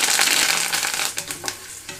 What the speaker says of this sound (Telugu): తాలింపు అంతా వేగిపోయిన తర్వాత ఇందులో కరివేపాకు రెమ్మలు వేస్తున్నాను।